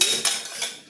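A metal pot clatters and clanks briefly as it is set down, a short bright metallic rattle with no voices.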